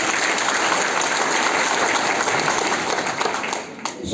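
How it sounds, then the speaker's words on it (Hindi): A political rally crowd applauds loudly and steadily, a dense wash of clapping close by and without pause, tapering slightly near the end. "तो थोड़ा जोरदार ताली बजाइए।"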